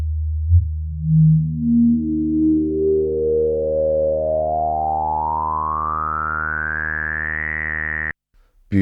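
Alpha Juno style synth with the filter at full resonance, one sustained note whose resonant peak sweeps steadily upward over several seconds into a bright whistling tone, then cuts off abruptly.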